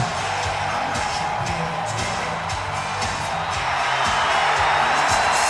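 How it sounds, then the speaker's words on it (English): Arena crowd in the WWE 2K 2008 wrestling game, a Fresno audience, roars in a dense, continuous wash of cheering with rhythmic pounding underneath, loud and unbroken throughout. "The crowd in Fresno loves them some HB Shizzle."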